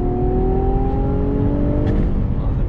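A 2021 Infiniti Q60 Red Sport 400 accelerates hard on throttle, its engine note climbing steadily in a loud, close, sustained drone heard from inside the car.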